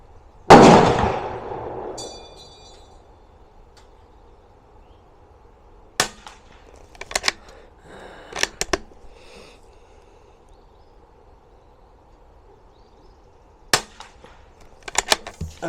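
Quick sighter gunshots at an outdoor target range: one loud crack with a long echoing tail, then several fainter sharp pops scattered in small clusters across otherwise quiet air.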